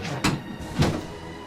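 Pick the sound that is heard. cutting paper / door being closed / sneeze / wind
door being closed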